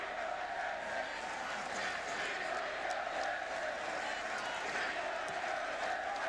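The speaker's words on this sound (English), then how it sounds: "the chants in the crowd here are "We own Texas,"" A large stadium crowd at a Texas at Kansas State football game chants and roars continuously, a dense, distant wash of voices filling the whole stretch.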